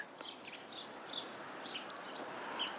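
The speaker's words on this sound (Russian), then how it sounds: "Вот так у нас щебечут птички." Small birds chirp outdoors after being fed scattered pea grains, giving faint, distant, scattered tweets over a soft rustling background.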